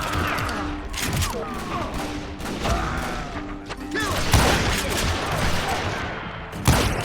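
Gunfire in the western shooter Call of Juarez: Gunslinger, a rapid run of close, loud shots crackling under shouted voices, with heavier bursts toward the end.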